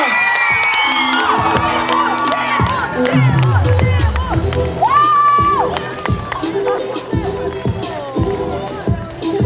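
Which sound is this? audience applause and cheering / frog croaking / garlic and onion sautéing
audience applause and cheering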